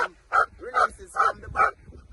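A dog barks hard during aggression training as a handler agitates it, four loud evenly spaced barks close by with a whimper between them.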